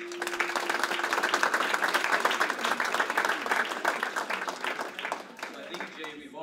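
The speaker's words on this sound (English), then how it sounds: "Let's give her a round of applause." An audience at a training center ribbon cutting applauds, a dense steady clapping that lasts several seconds and then thins out, with a voice speaking faintly underneath.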